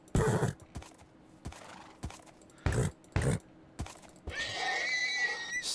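A horse in modded Minecraft (MavPack) with a hat gives several short, loud neighing bursts separated by pauses, ending in a sustained high whinny over a steady game background; no one talks.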